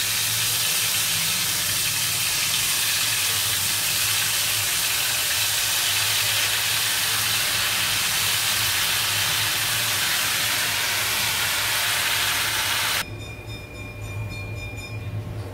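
Ingredients fry in hot oil on a low stove flame while a homemade anti-dandruff hair oil is prepared, making a steady, even sizzling hiss that drops to a softer level near the end.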